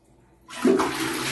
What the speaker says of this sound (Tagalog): So try natin itong flush kung gagana na.